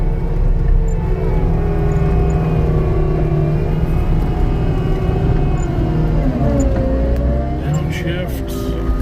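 A Cat 289D track loader engine drones loud and steady up close as it shifts into high gear, its pitch bending near the end, with talk over the engine noise.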